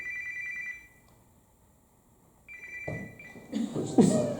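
A telephone rings during a regular public meeting, with a clear trilling ring, a pause, then another ring. Shuffling and indistinct voice sounds follow as someone fumbles with it.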